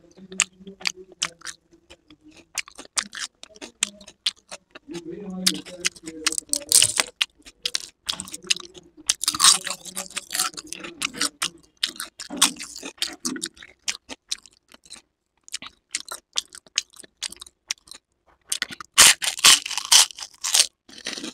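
Close, wet chewing of the last bite of bhatura, fried bread eaten with chole, at night indoors: irregular crunchy mouth sounds in bursts with short quiet gaps, loud and near, no talking.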